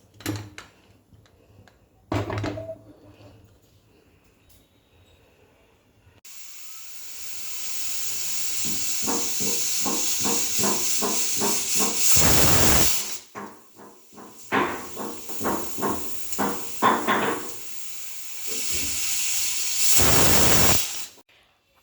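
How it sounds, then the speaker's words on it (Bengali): A pressure cooker boiling potatoes and green bananas in salted turmeric water lets out loud, sustained steam hisses broken by rapid rattling puffs, with quieter kitchen knocks before the venting begins. "এবার প্রেসার কুকারে ঢাকনা লাগিয়ে এগুলো সেদ্ধ করে নেব"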